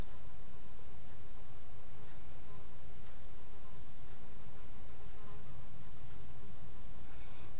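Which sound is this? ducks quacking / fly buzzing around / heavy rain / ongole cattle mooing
fly buzzing around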